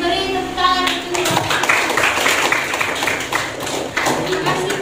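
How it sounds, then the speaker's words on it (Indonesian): Classroom applause after a group's math presentation, a steady wash of many hands clapping close by for several seconds, with some voices mixed in underneath. "beri tepuk tangan untuk"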